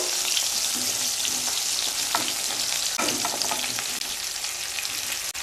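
Chopped potatoes and tomato frying in hot oil, a loud, continuous close sizzle with scattered sharp pops and the occasional scrape of a spatula stirring the pan.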